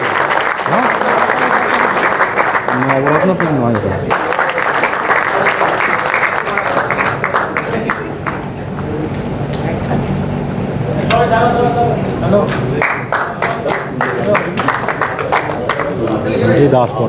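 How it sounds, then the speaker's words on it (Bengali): An audience claps at a club prize distribution ceremony, sustained applause running throughout while an amplified voice speaks loudly over it. "প্লিজ করে হাততালি"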